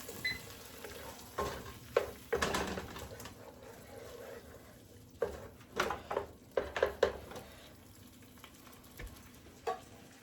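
Butter sizzling in a pan while cooking French onion soup, a soft steady hiss broken by scattered clinks and scraping stirs.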